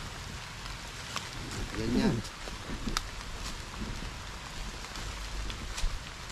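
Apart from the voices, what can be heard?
heavy rain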